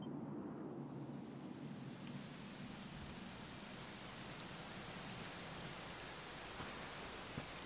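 Rain in the video game Dragon Quest XI, a dense, even downpour hiss with a low rumble underneath, steady and soft throughout without voices.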